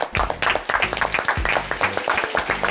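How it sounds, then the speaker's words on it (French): An audience applauds entrepreneur Alex with busy, overlapping claps, loud and close, mixed with a low tonal voice or music sound running underneath. "Messieurs, dames, un tonnerre d'applaudissements pour Alex."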